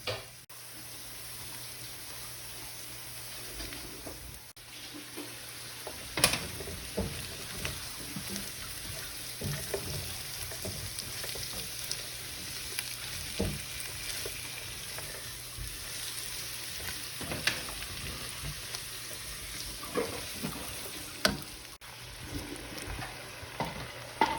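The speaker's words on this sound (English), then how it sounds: "Sauteing in oil, onion, and garlic right now." Onion and garlic sauté in hot oil with a continuous soft sizzle and crackle, occasional sharper pops and stirring clicks rising above the even frying hiss; no talking.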